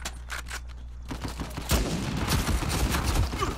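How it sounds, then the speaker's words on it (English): Video game gunfight with a sharp sniper rifle crack followed by a flurry of rapid gunshots and impacts, loud and close, with no talking. "Oh wow, I get shot in the back!"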